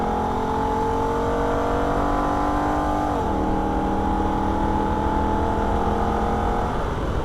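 A Holden VF Ute's engine drones loudly from inside the cabin at the Nürburgring, its pitch dropping abruptly as it upshifts into third gear and then climbing steadily again under acceleration, with no talk.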